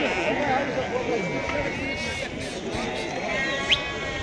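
Sheep bleat at a livestock market, several cries scattered over a busy murmur of people talking and crowd noise, with one sharp bleat standing out near the end.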